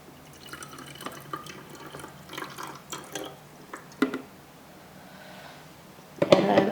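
Water poured into a juicer jug for apples, a soft trickling and dripping under light handling noises, ending in a brief louder splashing gush.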